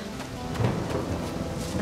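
Steady rain with a low rumble of thunder in the video game Harvest Moon: Animal Parade, a continuous wash of rainfall at constant level throughout.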